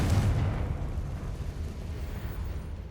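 A Confringo blasting spell bursts in Hogwarts Legacy, one deep booming explosion at the start that rumbles and fades into a low decaying roar, heard alone without talk.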